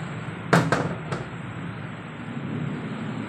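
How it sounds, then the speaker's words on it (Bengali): Heavy monsoon rain hisses steadily outside a house, heard from indoors with the window shut, and a sharp thunder crack bursts out early, followed by a fainter rumble. "জোরে বৃষ্টি পড়ছে, কি জানলাটা দেওয়া নেই।"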